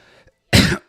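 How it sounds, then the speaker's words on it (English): A single sharp, loud cough close to the microphone, after a moment of quiet. "I'm sorry for coughing right into the microphone."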